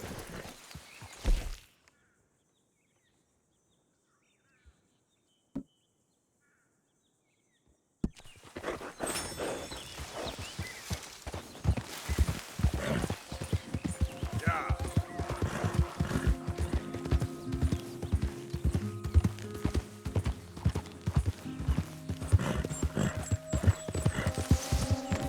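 Horse hooves pound in Red Dead Redemption 2: after a near-silent opening with a couple of faint taps, a fast, steady galloping clatter starts and continues loudly to the end.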